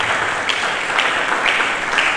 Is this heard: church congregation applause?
yes